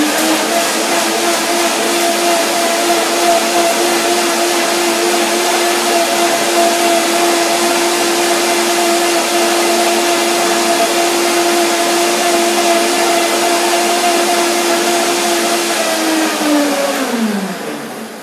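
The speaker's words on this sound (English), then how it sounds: "So now the blender dance," A blender whirs steadily while mixing a hazelnut avocado dressing, its loud motor holding a constant pitch for about seventeen seconds before winding down at the end.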